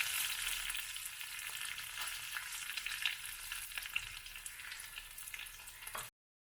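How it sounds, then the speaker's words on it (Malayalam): Mustard seeds, shallots, curry leaves and dried chillies frying in hot oil for a Kerala theeyal tempering, a close, steady crackling sizzle with occasional pops, no voices, stopping abruptly at the end. "കടുക് പൊട്ടി വരുമ്പോൾ അതിലേക്ക് ചുവന്നുള്ളിയും കറിവേപ്പിലയും ഉണക്കമുളകും കൂടി നമുക്ക് ചേർക്കാം."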